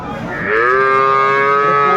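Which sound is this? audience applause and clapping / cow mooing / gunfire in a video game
cow mooing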